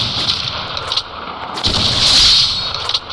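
Gunfire in the Free Fire video game, a few rapid bursts of shots with a sustained blast of noise in the middle, loud and close, with no talking.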